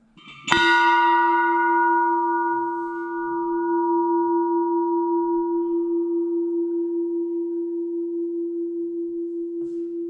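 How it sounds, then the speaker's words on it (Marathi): A single strike on a large old temple bell at Bhairavgad in Satara district rings out loudly, then a pure humming tone lingers and slowly pulses as it fades over many seconds. "ही घंटा वाजवली की एक मिनटं नाद राहतो"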